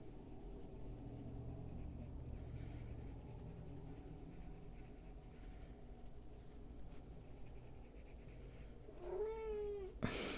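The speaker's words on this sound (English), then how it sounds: "And that is my cat." A domestic cat lets out one short rising meow near the end, close and clear against a quiet, faintly humming room.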